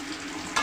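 Dried red chillies sizzle and crackle in a pan of hot oil, a steady close frying hiss that swells briefly near the end.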